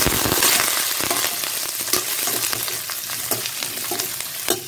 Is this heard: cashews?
yes